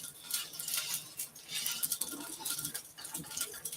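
Meat browning in a frying pan gives a steady crackling sizzle with bright spitting pops and faint clinks, close and moderately loud with no talking.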